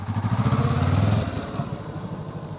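A motorcycle on a rider-training course for the A2-to-A licence upgrade, pulling away and riding in second gear. The engine sounds close and steady, then eases off and drops in level partway through.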